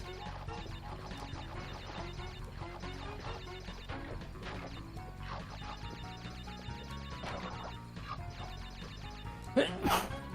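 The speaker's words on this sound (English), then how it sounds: "Had a sneeze." A single sharp human sneeze bursts out near the end, loud and close, after a stretch of steady background noise from a Crash Bandicoot 2 game.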